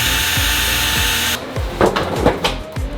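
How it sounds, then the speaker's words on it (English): A power drill drilling out a pin on a Subaru WRX hatchback, a loud steady high whine that stops abruptly partway through, followed by short rattling bursts and clunks. "now in theory, this should be as easy as just drilling this out."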